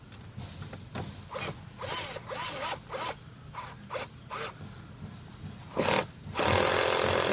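A drill with its torque clutch set slips while driving a screw into a Wells Blue Bunny graphics panel, giving a series of short, harsh ratcheting bursts of about half a second each. A longer sustained buzz of the clutch chattering comes at the end.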